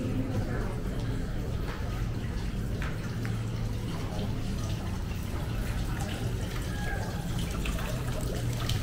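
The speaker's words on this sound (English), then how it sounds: "Nice little water fountain there." A small water fountain near a beach seating area in Tenerife trickles steadily beneath a constant low outdoor hum, the splashing faint and continuous throughout.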